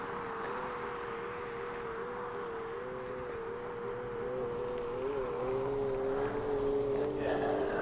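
A GOTRAX G3 electric scooter rides under throttle, giving a steady motor whine with rising tonal bands over continuous rumble and wind noise, moderately loud and constant throughout.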